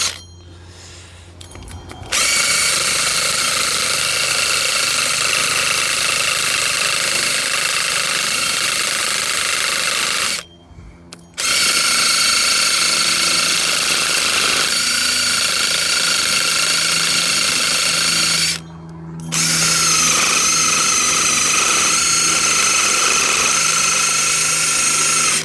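Power-tool wire wheel scouring rust off the rear brake hub of a 2016 Honda CR-V, a loud steady whirring grind that runs almost unbroken, with two short pauses where the tool stops before spinning up again.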